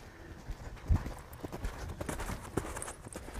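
Hooves of a horse thud and clop on the ground at a lope, giving a rolling, uneven run of muffled beats at moderate distance with some outdoor background.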